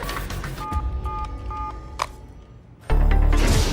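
A phone is dialed to place a call: a few short key-press tones in quick succession over room noise, followed by a louder burst of sound at the end.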